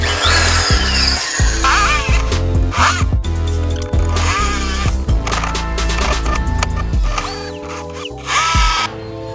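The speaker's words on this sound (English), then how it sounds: "I can just sit over and kind of grind away until it gets there" A power drill grinds through metal to make a hole for a car strut brace install, loud and close, in uneven bursts of whining and rattling with brief pauses between pushes.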